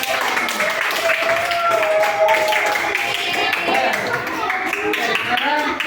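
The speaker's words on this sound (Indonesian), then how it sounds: "Nah, ya tepuk tangan." Children clap together in a classroom during a teacher training lesson, a dense, steady patter of applause that runs the whole time, mixed with excited young voices.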